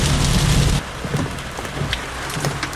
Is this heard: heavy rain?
yes